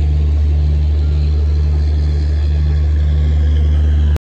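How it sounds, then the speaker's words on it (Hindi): Nauchandi Express pulling into platform 1 at Bareilly Junction behind a WAP-4 electric locomotive, a loud steady low rumble with a constant hum, then an abrupt cutoff. "और ये प्लेटफॉर्म 1 पे WAP 4 लोकोमोटिव के साथ नौचंदी एक्सप्रेस आ गई है।"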